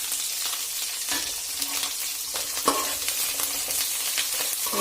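Fenugreek seeds frying in hot oil for a simple manji fish curry, giving a steady close crackling sizzle with occasional faint stirring clicks.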